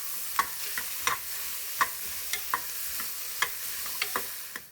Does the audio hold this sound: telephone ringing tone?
no